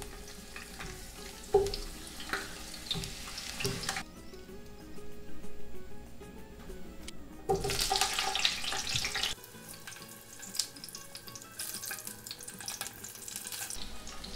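Jalapeño chiles frying in lard hiss and sizzle in a pan, mixed with splashing, running-water-like noise and stirring, busy and uneven throughout.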